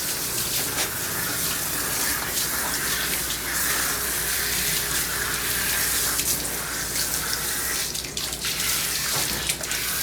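Water sprays steadily and loudly from a hose or shower head while a poodle mix is bathed, a continuous close hiss with small splashing changes.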